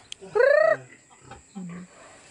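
Chickens at a piggery give a loud nearby cluck with a rising squawk, followed by a softer low cluck, set against a quiet outdoor background with no talking.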